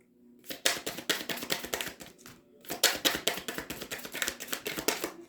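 Rapid crisp riffling clicks in two bursts separated by a short pause, close and fairly quiet, like cards being shuffled.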